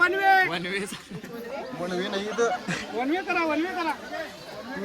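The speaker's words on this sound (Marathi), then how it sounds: "इथं भरपूर गर्दी झालेली आहे इथं." A large crowd gathered at a riverside Ganapati immersion, babbling voices forming a steady hubbub behind someone talking close by.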